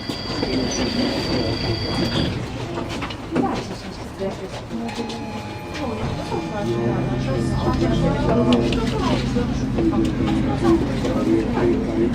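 A bi-directional tram rumbles past in Prague, its wheels squealing and rattling along the rails, with a steady low mechanical hum lasting throughout.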